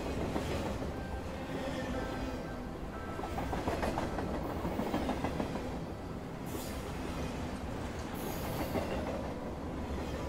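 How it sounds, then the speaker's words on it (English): A train rumbles steadily along the rails with a continuous dense roar and faint rhythmic clatter, heard alone at a moderate level. "and the sound of the train fades back in."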